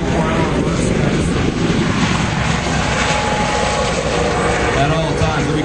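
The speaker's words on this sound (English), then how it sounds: "It's the Dolphin helicopter as you see flying by right now." A Coast Guard Dolphin helicopter flying by at an air show in Chico, its loud steady rotor and engine roar filling the scene continuously while someone speaks over it.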